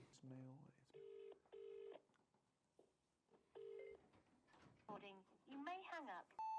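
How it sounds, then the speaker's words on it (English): A telephone number being dialed: a series of clear, evenly spaced keypad tone beeps, with a brief murmur of a voice near the end. "We're going to make some calls"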